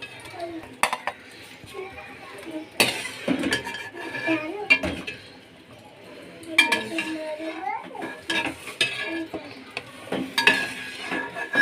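Metal utensils scrape and clink against a cooking pan as cauliflower is lifted out, in irregular clattering bursts with faint sizzling underneath, and a voice speaks intermittently.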